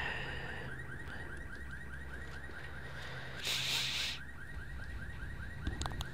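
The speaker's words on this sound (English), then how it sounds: "But this car alarm is very annoying." Car alarm in the video game SWAT 4, set at an auto import dealership, wailing in a steady repeating cycle throughout at moderate level, with a brief burst of hiss partway and a few clicks near the end.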